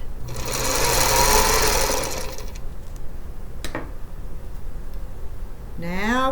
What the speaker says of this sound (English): I've got a little room here that I'm going to sew this piece.